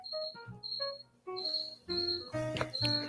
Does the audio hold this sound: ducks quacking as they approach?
no